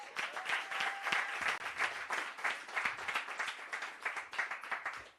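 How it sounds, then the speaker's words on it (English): A workshop audience breaks into a sustained round of applause, dense overlapping clapping holding steady for several seconds at moderate loudness, with no voices over it. "Give her a round of applause."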